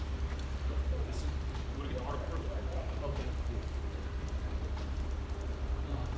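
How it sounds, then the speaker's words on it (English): Rain falling steadily outdoors during a camp gathering, a constant hiss of drops with a low rumble beneath, as someone speaks over it. "You gotta speak up, man. It's raining."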